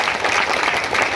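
A crowd at a public meeting claps together in sustained, even applause, loud and full with no pauses.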